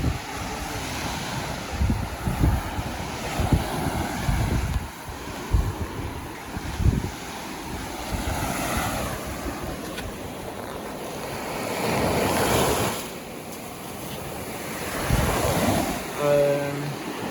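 Sea waves break and wash onto a beach on a sunny day, with a steady surf roar swelling in surges near 12 and 16 seconds, mixed with gusty wind buffeting the microphone.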